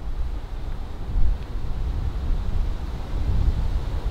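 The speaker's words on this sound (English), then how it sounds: "was it blowing a gale like this?" Strong gusty wind buffets an outdoor microphone on a golf course, a steady low roar with a brief louder gust, no talking heard.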